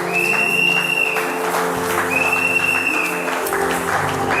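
A church congregation claps loudly and steadily, a dense wash of applause filling the room, with a sustained high tone sounding over it at intervals and no clear speech.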